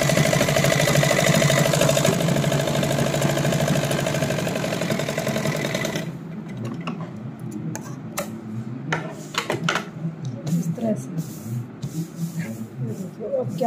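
Sewing machine stitching salwar fabric: a dense, steady mechanical whir runs for about six seconds, then stops, leaving sparse clicks, handling noises and faint rustling of cloth.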